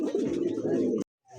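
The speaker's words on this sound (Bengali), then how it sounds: "দেখেন ডাকতেছে, এটা দিছে নর কবুতর" A male blue satin pigeon coos in a low, throaty run lasting about a second, loud and close, then breaks off into a short silence before a fainter call begins.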